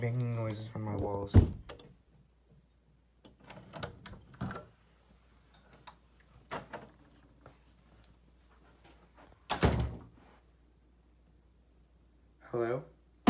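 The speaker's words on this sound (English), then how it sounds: "I've been hearing banging noises on my walls." Banging knocks on the walls of a home, a few loud isolated thumps spaced apart by quiet stretches, with a brief voice near the start and another near the end.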